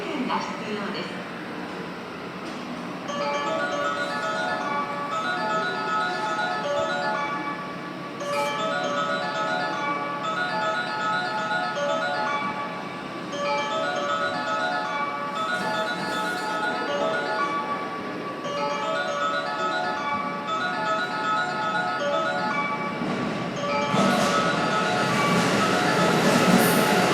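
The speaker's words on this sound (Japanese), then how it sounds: "11番乗り場に列車が入ります。" Limited express Hida train pulling into Osaka Station platform 11, a steady rumble of wheels and rolling stock running under a chiming platform melody and an automated announcement voice, growing louder near the end.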